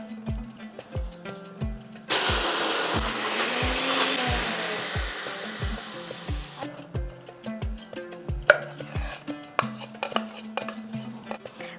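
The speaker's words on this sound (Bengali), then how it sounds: "এরপরে এটাকে যতটা সম্ভব কম জল দিয়ে টাইট টাইট করে বেটে নিতে হবে" A mixer grinder crushing green chilli with very little water whirs loudly for about four seconds, framed by a steady run of evenly spaced knocks and light clattering before and after, all close up with no talking.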